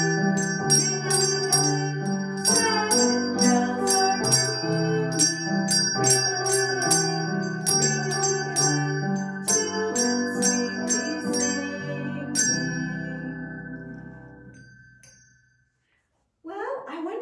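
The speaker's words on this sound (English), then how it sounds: "It's time to ring our Sabbath bells." Small Sabbath bells are rung in a quick, bright jingling pattern over a steady musical backing, repeated in bursts for several seconds before fading to silence, a short new sound entering at the very end.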